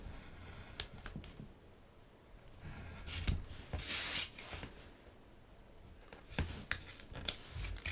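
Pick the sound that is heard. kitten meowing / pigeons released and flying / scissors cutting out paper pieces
scissors cutting out paper pieces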